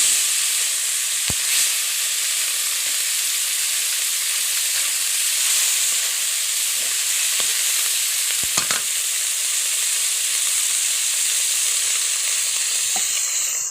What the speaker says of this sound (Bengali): আমি সামান্য একটু ভেজে নেব মাছটা